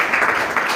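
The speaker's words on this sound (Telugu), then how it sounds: "అందరూ చప్పట్లు కొట్టండి." Audience clapping together at a church gathering, a dense steady patter of many hands lasting under a second with no break.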